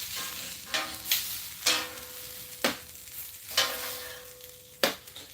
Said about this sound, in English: I really like the way those sausages are looking, man. They're getting a nice sear on them.